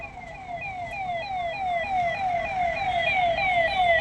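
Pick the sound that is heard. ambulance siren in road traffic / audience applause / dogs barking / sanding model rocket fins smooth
ambulance siren in road traffic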